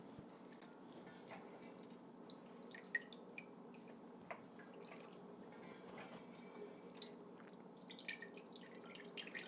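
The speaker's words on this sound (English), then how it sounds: "I kind of let some of the whey run out of it" Whey from freshly made mozzarella curd trickles and drips quietly and continuously, with a few small splashes, in a calm kitchen with no talking.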